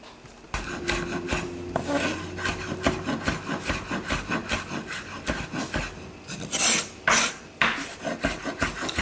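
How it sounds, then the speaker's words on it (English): A knife chopping garlic on a wooden board, quick uneven taps with scraping, close and fairly loud, no voices. "So, we all know that chopping garlic is easy."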